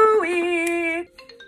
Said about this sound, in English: Calling Chloe